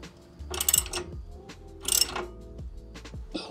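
Ratcheting wrench tightening a bolt on a Land Rover L322 Range Rover Supercharged during a DIY wheel alignment, two bursts of close metallic clicking and clunks separated by quieter mechanical handling noises, no talking.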